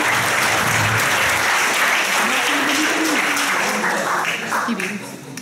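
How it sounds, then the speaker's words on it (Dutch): Loud, sustained applause fills the room, thanking the organisers and volunteers of a summer festival in Ertvelde; continuous clapping that thins slightly toward the end, with no speech over it. "ik zou graag ook nog een keer een applaus hebben voor de hele organisatie en alle vrijwilligers"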